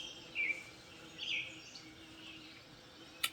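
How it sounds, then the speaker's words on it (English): A few short, thin bird chirps at a distance over a quiet outdoor hush, spaced apart with one sharp note near the end. "The birds, they're so loud."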